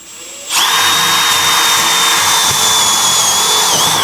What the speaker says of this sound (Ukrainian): До металу засверліли.